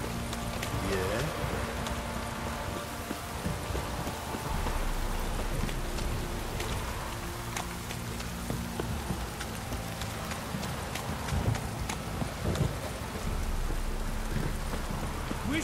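Steady rain falls in The Witcher 3, a constant soft patter under horse hooves clopping and voices talking.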